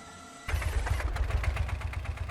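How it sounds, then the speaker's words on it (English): A single-cylinder engine in a combustion engine simulation game, fitted with an open throttle feeding a short drop-out pipe, chugs into a steady tractor-like rhythmic thump, loud and close after a quieter idle-like start. "It sounds like a tractor, and I love it."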